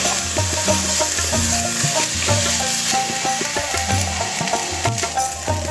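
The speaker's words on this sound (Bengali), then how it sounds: "চালটা একটু ভেজে নেব" Steady dry scraping and rattling of rice grains stirred in a hot pan over a low flame, continuous and close, with soft background music underneath.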